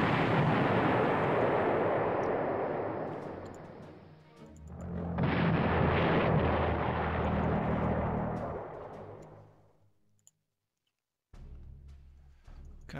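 Rocket artillery firing in the Panzer Corps wargame, heard as a loud, long roaring whoosh of launches that swells twice, fades to silence, then a shorter burst returns at the end.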